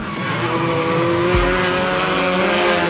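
A drift car sliding at Meremere during a grassroots non-competitive drift day, engine droning loudly and steadily close by, with a brief tire squeal in the middle of the run.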